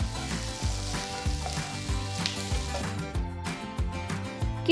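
Five boiled potatoes fry in an onion masala with turmeric and salt, sizzling continuously while a spatula scrapes and stirs in a quick, repeated rhythm close by, no voices.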